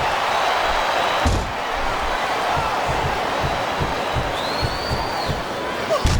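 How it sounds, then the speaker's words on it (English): A crowd cheers and roars without break at a wrestling match in the WWE SmackDown vs Raw 2008 video game, a dense wash of noise broken by a few thudding impacts. "I cannot remember the last time I've seen a crowd this pumped up."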